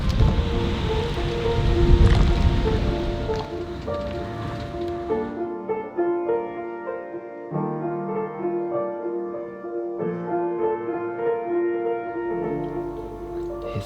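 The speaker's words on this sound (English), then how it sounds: "we are venturing out into the rain. It has not stopped, not let up at all." Heavy, steady rain pours down during a storm, with a dense wash of drops drumming on surfaces under a sustained tonal hum.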